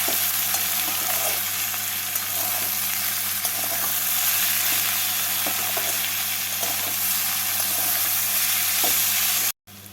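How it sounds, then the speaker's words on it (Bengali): Vegetables sizzle and fry in a pan as salt and turmeric are stirred through them, a steady close hiss with light scraping strokes throughout, cutting out abruptly just before the end. "নুন আর হলুদটাকে সবজির সাথে মিশিয়ে নেব"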